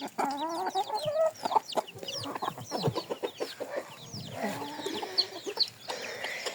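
Hens cluck and murmur nonstop inside a backyard chicken coop, close and fairly soft, with overlapping calls and no talking.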